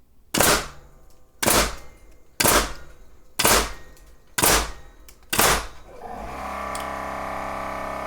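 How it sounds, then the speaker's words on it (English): Six loud, sharp nail-gun shots fire 8-penny nails in steady succession about a second apart, then a Milwaukee M18 Fuel 2-gallon cordless air compressor starts up and runs with a continuous motor drone. "So 6 nails, and the compressor kicked on."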